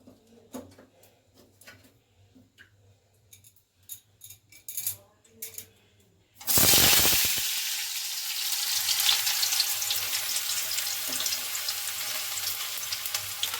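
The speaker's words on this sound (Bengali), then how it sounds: "এখন আমি আলুগুলো ছাড়বো এতে।" Potatoes for a homemade biryani hit hot smoking oil in a pan, erupting into a loud, steady sizzle that continues unbroken, after a few seconds of quiet kitchen handling sounds and brief talk.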